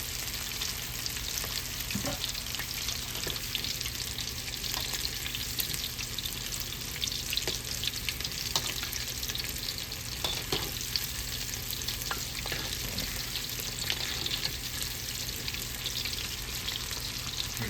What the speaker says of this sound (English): fry some okra now. Beautiful, crispy, golden brown fried okra.